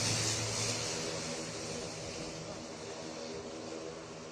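Rafale, Sukhoi and Mirage fighter jets roaring during touch-and-go drills on the Purvanchal Expressway, a loud continuous broadband engine roar that holds steady throughout.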